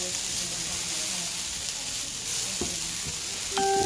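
Vegetables browning in a pan for shakshuka give off a steady moderate sizzle, with a couple of brief knocks and a faint tone near the end.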